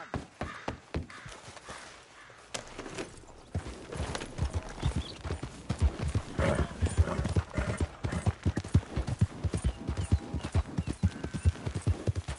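A horse in Red Dead Redemption 2 clip-clops steadily along, hooves beating a fast even rhythm that grows louder and denser over a background hum, with no voices.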